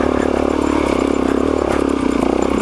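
A Suzuki DRZ dual-sport motorcycle engine runs loud and close on a mountain trail, a steady rapid mechanical thrum with clattery texture and no talking.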